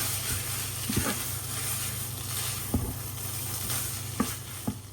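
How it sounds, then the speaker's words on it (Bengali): Chicken noodles sizzle steadily in a frying pan, a constant close hiss broken by occasional scraping taps of a stirring utensil, with no talk. "চিকেন নুডলস করে দিচ্ছি।"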